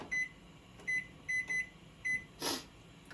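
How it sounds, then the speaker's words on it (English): A kitchen timer being set while pasta cooks for Velveeta mac and cheese, giving a series of short electronic beeps in irregular pairs and singles, followed by a brief louder burst of noise, in a quiet kitchen. "So I'm going to set my timer"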